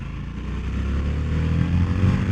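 A 2021 Harley-Davidson Sportster S with the Revolution Max 1250T V-twin accelerating on a country road, a loud, deep engine growl that climbs steadily with wind rush, recorded close from the rider's position.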